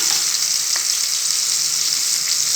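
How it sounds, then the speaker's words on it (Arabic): Turkey breast searing in hot butter and oil, a steady, loud, bright sizzle of frying that holds evenly throughout without any talk. "طبعا كده الزبدة والزيت بتاعنا سخن كويس، بسم الله الرحمن الرحيم. هنبدأ كده ننزل بالصدر ياخد كده صدمة"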